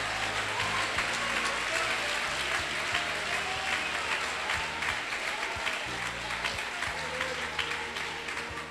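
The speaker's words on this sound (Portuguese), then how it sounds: "Desocupem as suas mãos, batam palmas e glorifiquem a Jesus" A church congregation clapping hands together, a dense, steady wash of applause lasting the whole stretch, fairly even in loudness with faint voices underneath.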